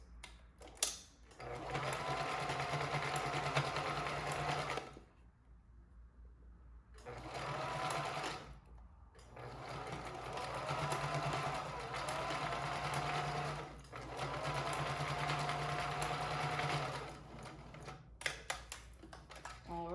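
A sewing machine stitches the bottom seam of a fabric face mask in several steady runs of rapid mechanical whirring, separated by short pauses, close and fairly loud.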